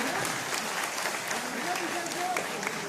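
Steady audience applause at a Hindi-speaking public gathering honouring women's work, a dense continuous patter of many hands that holds level throughout, with a voice carrying over the clapping.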